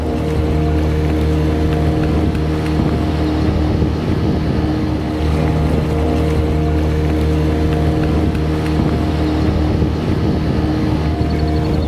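A motorboat engine on Lake Prespa drones steadily and loudly throughout, a continuous close rumble with wind and water noise mixed in.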